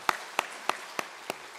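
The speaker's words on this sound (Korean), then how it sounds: "자녀에게 우리 축복의 박수 하겠습니다." At a Sunday church service, the congregation claps in slow unison, six sharp, evenly spaced claps about a third of a second apart over a quiet room.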